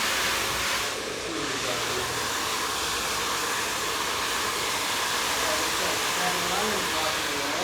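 A hair dryer blows steadily on freshly cut hair, a loud continuous close hiss that runs the whole time, with faint talk underneath.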